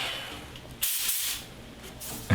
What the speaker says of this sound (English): So it was time to spray all the interior surfaces with a lacquer